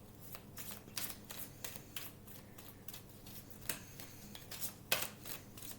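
Tarot cards shuffled and drawn by hand, a quiet run of soft riffling flicks and snaps in irregular bursts, close and faint with no talking.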